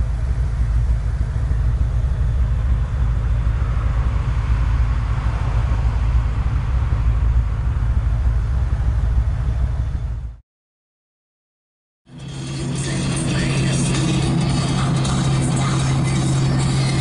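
A car idling at a stoplight, a steady low engine rumble with cabin noise, continuous and fairly loud, broken by a brief silent gap before the rumble resumes with a more pronounced low hum.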